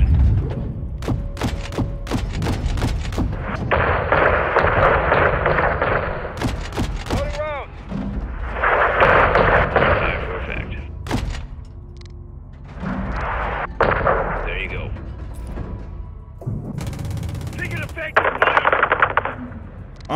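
Call of Duty MW2 combat: bursts of machine-gun fire at the start, then repeated loud missile impacts and rumbling explosions spaced several seconds apart, with scattered shots and thuds in between.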